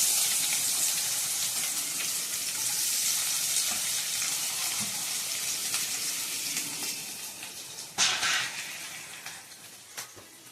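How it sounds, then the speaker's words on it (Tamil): Onions frying in sesame oil for a fish dish make a loud, continuous bright sizzle up close, easing slightly over time, with a sudden louder burst of hissing near the end. "நல்லெண்ணெயை ஊற்றிட்டு அதுக்கு எண்ணெய் காஞ்சதும் வெள்ளை வச்சிருந்த வெங்காயத்தை வந்து இதை போட்டுருவோம்"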